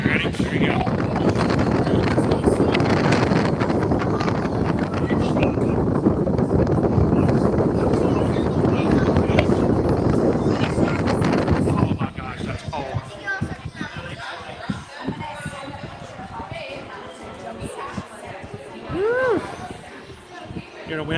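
Strong wind buffets the microphone in a loud, continuous roar for about twelve seconds outdoors at Magic Kingdom, then drops to gusty patches under people talking and crowd chatter.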